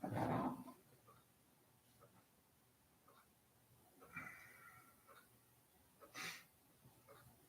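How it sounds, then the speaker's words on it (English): A dog sleeping in a garage lets out a sharp whimper at the start, then faint scattered whines and small yips follow at intervals over a quiet background. "My dog's sleeping next to me too, Gordon."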